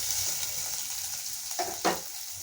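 Onion and curry leaves sautéing in coconut oil in a pan, with a steady close sizzle and a couple of short scraping stirs near the end.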